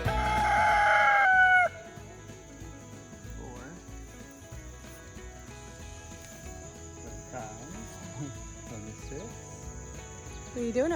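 On a homestead farm, a rooster crows loudly at the start, then chickens cluck and squawk in scattered bursts over a constant high insect trill, with a person talking briefly.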